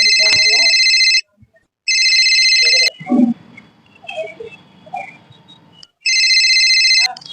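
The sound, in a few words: phone ringtone ringing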